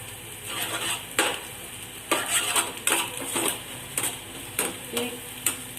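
Egg fries in a pan for fried rice and is stirred with a utensil, giving a steady sizzle under repeated scraping and clinking strokes against the pan, close and continuous.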